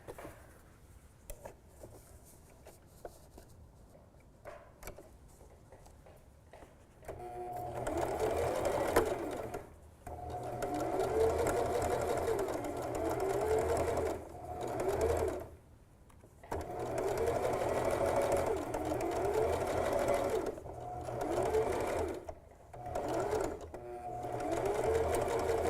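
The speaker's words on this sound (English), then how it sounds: "we're just going to go ahead and stitch that seam there" Sewing machine stitching a seam on a small fabric mouse ornament, quiet handling at first, then several bursts of close rapid whirring separated by short pauses.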